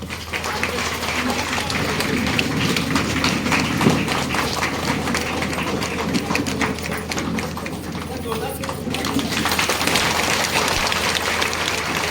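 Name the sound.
audience applause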